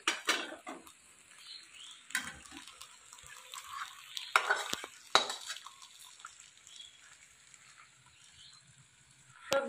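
Mixed vegetables being stirred and fried in a pan with mustard oil, with sharp utensil scrapes and clatters over a soft, low background sizzle.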